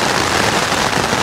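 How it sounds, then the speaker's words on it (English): Rain patters densely on a tent during a wild camp with strong winds forecast, a loud close hiss of countless drops spread evenly and without pause. "but it's just started to rain."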